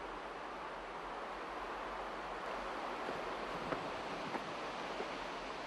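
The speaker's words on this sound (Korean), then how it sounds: "우리가 거대한 물소리를 쫓아 도착한 곳은 바타드의 폭포 앞" A large waterfall at Batad in the Philippines roars as a dense, unbroken wash of broadband rushing water, loud and steady throughout with no voices.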